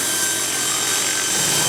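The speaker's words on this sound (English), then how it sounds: "We're gonna follow the RC car with this remote-controlled helicopter rig, which is also nicknamed a flying chainsaw." A remote-controlled camera helicopter rig, following an RC car for a Nissan commercial shoot, gives off a constant harsh, buzzing drone like a chainsaw, loud and close throughout.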